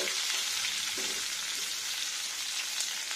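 Food sizzles steadily in a pan while being fried for a vegetarian rice lunch, a constant close hiss with a few faint clinks and no talking.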